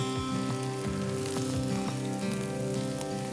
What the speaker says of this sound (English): Caramelizing our onions.